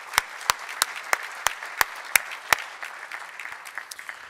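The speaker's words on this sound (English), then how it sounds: "Please, a round of applause to them as well." Applause from a small crowd at a healthcare lecture, starting with a run of sharp, spaced claps that loosen into lighter, scattered clapping as it fades.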